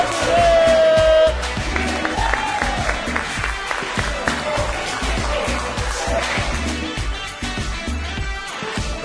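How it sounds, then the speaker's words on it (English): A fitness class claps together after a workout, steady applause with a few cheers filling the room, with some voices in the mix. "Clap it up."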